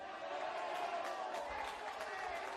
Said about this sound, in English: And it's brought about a round of applause.